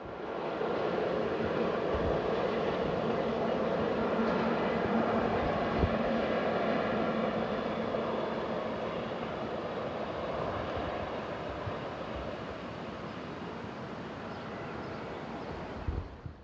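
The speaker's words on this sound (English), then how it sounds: "The same train is seen some 20 minutes later heading east on the approach to Ruras." A train heading east on its approach to the village of Ruras in the Tuyech valley, a steady broad rumble of wheels and rail noise mixed with wind buffeting the microphone, sustained and fairly constant throughout.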